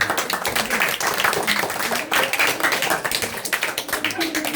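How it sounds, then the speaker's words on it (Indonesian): Children at a Sunday school gathering held in a family home clap their hands together in a burst of uneven, fairly loud group applause lasting several seconds, with voices talking through it. "Tepuk tangan dulu, tepuk tangan."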